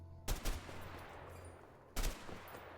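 Two sharp gunshot bursts about a second and a half apart, loud and close, with a steady low hum running underneath.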